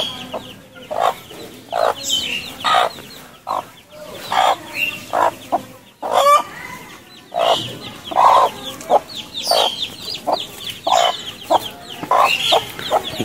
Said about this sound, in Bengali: দেখতে পাচ্ছেন জঙ্গলি মুরগি